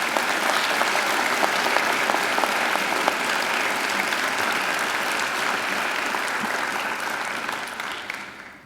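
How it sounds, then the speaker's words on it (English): Graduation ceremony audience at Macquarie University giving a round of applause, a thick continuous wash of many hands clapping, loud and even, then thinning and fading out at the end with no talk. "So they deserve a great round of applause as well."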